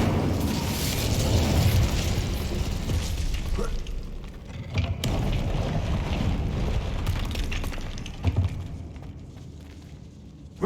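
The Incendio fire spell cast in the video game Hogwarts Legacy roars out as a long, loud rushing burst of flame, then trails off into softer crackles and a few sharp pops.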